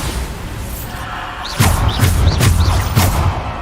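A Bombarda spell blast in Hogwarts Legacy, heard as a string of four or five heavy thuds and booms at a steady beat, each with a short rising whoosh, loud and close over a constant game background.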